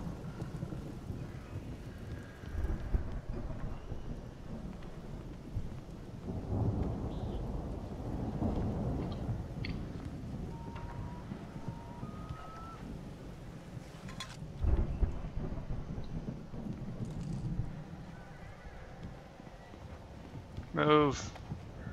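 Thunderstorm in the video game Alan Wake: low rumbling thunder rolls in and out over steady rain and wind, with a few sharper cracks near the middle and end, mostly without talk.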